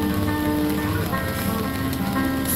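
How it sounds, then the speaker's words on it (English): Heavy rain pours steadily during a storm on a sailboat traveling BC's Inside Passage, a dense continuous wash of drops close by with no talking. "So much rain."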